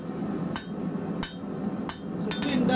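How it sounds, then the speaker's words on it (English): The edge of a blacksmith's hammer strikes hot steel while thinning a BBQ handle with a cube twist, giving three sharp, ringing metallic blows about two-thirds of a second apart, then a lighter tap, over a steady forge rumble. "I'm going to use the edge of the hammer"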